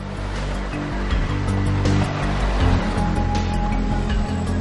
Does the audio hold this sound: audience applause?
no